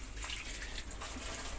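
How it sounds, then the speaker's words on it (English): Water poured from a watering can onto sweet potato plants in dry soil, a continuous splashing trickle that stays fairly even for its short length. "I've got a watering can. I'm giving these a thoroughly good water."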